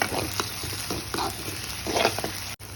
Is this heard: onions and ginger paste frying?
yes